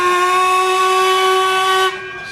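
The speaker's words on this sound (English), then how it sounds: "steam train locomotive" A loud, sustained whistle from the narrow-gauge steam locomotive Excelsior at Whipsnade Zoo blows a bright, rich tone for about two seconds before cutting off, leaving a soft hiss.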